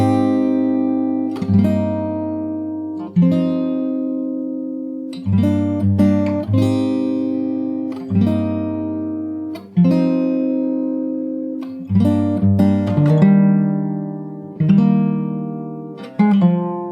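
Solo fingerstyle guitar picks through the bridge of a song, chords and single notes plucked in an unhurried pattern, each ringing out before the next, up close with no talking.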